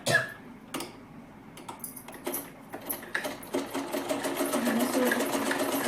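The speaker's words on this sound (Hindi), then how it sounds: "अब हम इससे इसके ऊपर ऐसे करके रख के शोल्डर के लिए सिलाई लगा लेंगे।" A sewing machine stitches the shoulder seam of a child's top, starting with scattered clicks and short bursts before settling into a fast, steady mechanical chatter close by, with no speech.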